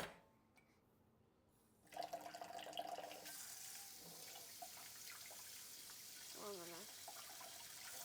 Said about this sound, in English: Let's grab it. Warm water.